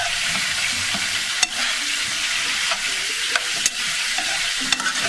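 Chicken for cacciatore being stirred in a pan to coat it with oil and spices, a constant close sizzle broken by several sharp scrapes and clinks of the utensil against the pan.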